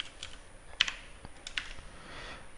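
Code being typed on a computer keyboard, a handful of light irregular keystrokes with one or two sharper taps, close and quiet, no speech.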